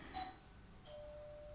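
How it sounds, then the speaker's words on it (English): A brief electronic doorbell chime sounds, two tones a moment apart, quiet and somewhat distant in a still room. "Someone is ringing the doorbell."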